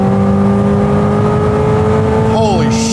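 A Corvette C8 ZR1 on a track straight revs loud and sustained toward redline, the engine tone holding steady before dipping sharply near the end as it hits the limit.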